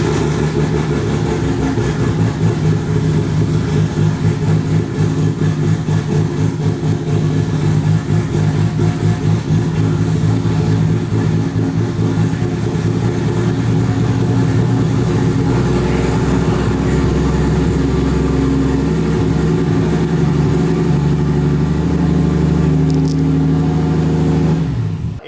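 A Lexus IS300 with a 1JZ engine and a Link ECU, running with no exhaust fitted, starts and then runs for a long stretch as a loud, steady, throbbing idle with slight changes in revs.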